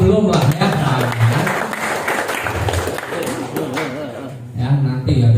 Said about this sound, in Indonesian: Tepuk tangan buat yang belum lah ya.